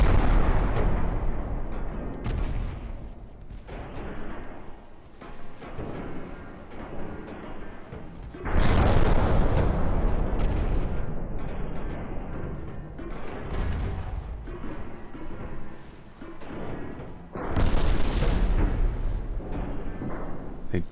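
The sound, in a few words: naval guns firing shells at a ship in video game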